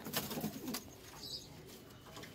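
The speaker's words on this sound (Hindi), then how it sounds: "बहुत अच्छे कबूतर हैं दोस्तों" Pigeons coo softly in low, rolling calls, faint and somewhat distant against quiet background noise.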